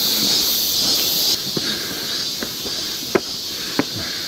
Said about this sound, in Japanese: セミの鳴き声